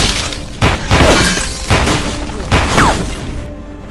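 A loud gunfight between two men in the action film Faster: repeated heavy gunshots and crashing impacts go off in bursts under dramatic score, with several sharp blasts spread across a few seconds.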